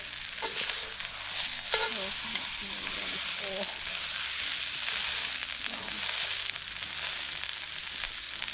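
Bread toasts in butter in a pan over a campfire outdoors, with a steady, fairly loud sizzle and crackle running throughout and occasional soft scrapes as it is moved.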